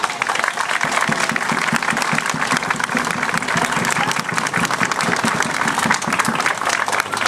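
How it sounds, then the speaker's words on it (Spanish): Continuous, loud applause from a crowd at a Day of Remembrance for Truth and Justice commemorative event, dense clapping holding steady throughout. "le pido un gran aplauso"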